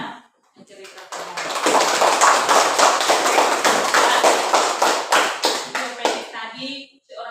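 A classroom of primary school children claps hands in a round of applause, a dense, loud burst of many claps lasting several seconds before tapering off, with some voices around it.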